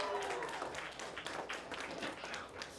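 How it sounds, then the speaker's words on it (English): Scattered audience applause at a small live music showcase in an intimate venue, a moderate wash of clapping that fades and swells, with faint voices murmuring underneath. "Let's give them a big round of applause"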